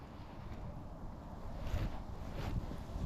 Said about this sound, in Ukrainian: Вітер став ще гірше дути.